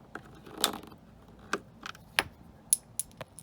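A screwdriver pries small covers off the tail light of a 2002-2006 second-generation Honda CR-V, producing a scatter of faint, sharp plastic clicks and pops at irregular intervals against a quiet background.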